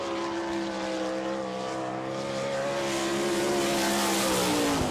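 A sprint car runs a lap at Barberville speedway in Florida during an All Star Circuit of Champions event, its engine holding a steady, harmonic high-rev drone as it passes some distance away, growing slightly louder toward the end.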